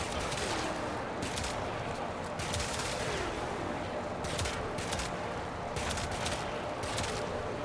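Gunshots from a Coda weapon in the video game Warframe ring out as several sharp bursts of rapid fire, spread across a steady, noisy game background.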